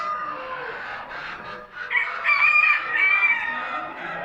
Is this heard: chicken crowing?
yes